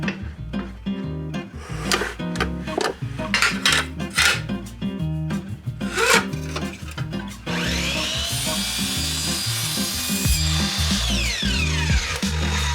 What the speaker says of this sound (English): We're gonna cut some angled aluminum trim pieces to go around the Maxx Air Fan.